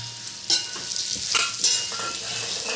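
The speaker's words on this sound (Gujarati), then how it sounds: "બધું મિક્સ કરી નાખીએ" Methi muthiya ingredients (fenugreek leaves with red chili, salt, sugar and sesame) being mixed together village style, giving close, steady scraping and rustling strokes with a few sharper scrapes, no voices.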